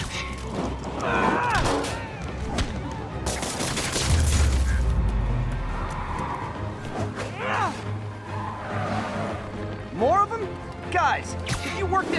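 Gunfire and action noise in a Spider-Man video game, with a loud burst of shots and impacts midway among character voices and game sounds.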